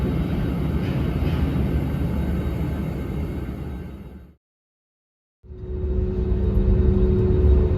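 Engines of a Frontier Airbus A320neo airliner give a steady broadband rumble from inside the cabin, cut off by a second of silence before the roar resumes at the same level.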